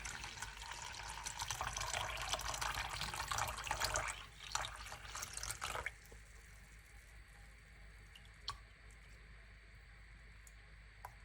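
Water poured into a bowl with 5 grams of yeast for a simple boule bread dough, a steady close splashing stream that stops abruptly, leaving faint drips and quiet room noise.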